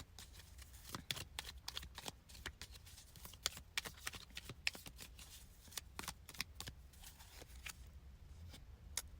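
Tarot cards being shuffled by hand, quick rapid riffles and flicks in irregular bursts, close and crisp, thinning out near the end, with no voices.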